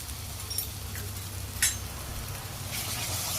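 Homemade black masala with garam masala and turmeric frying in oil for bottle gourd kofta curry, a soft continuous sizzle with a few faint stirring scrapes, close and steady, without talk.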